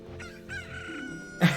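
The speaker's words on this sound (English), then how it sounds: "She gave us this cool chicken." A chicken crows once in a single drawn-out call in the video game Zelda: Ocarina of Time, clear and close, ending with a short sharp burst of sound.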